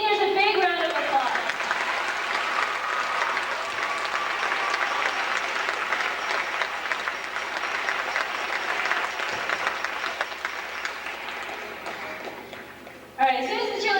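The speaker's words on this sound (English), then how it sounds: "So let's give these seniors a big round of applause." Crowd at a state championship football event gives the seniors a long, steady round of applause, broad and full throughout, with a voice speaking briefly at the start and again as the clapping dies away.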